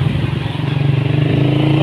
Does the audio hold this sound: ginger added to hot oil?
no